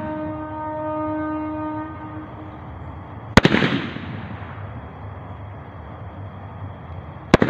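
Firecrackers set off during Kali Puja: one sharp, loud bang followed by a rumbling, fading tail, then a second crack at the end, after a steady horn-like drone fades out.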